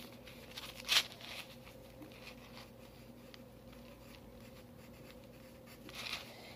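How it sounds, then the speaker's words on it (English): A pen writes in a diary in a quiet room, with soft, faint scratching strokes running throughout and two brief louder scrapes near the start and end. "I'm gonna write something in my diary."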